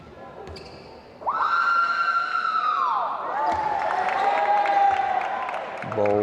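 At a pro basketball game in the Kia Center, a spectator lets out long, wavering, siren-like howls during a free throw, loud and sustained over a low crowd murmur, with a short break partway through.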